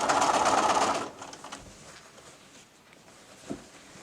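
A sewing machine stitches bias binding onto a patchwork quilt: a loud, close, steady mechanical whir for about a second, then it stops, leaving a quiet room with a faint tap.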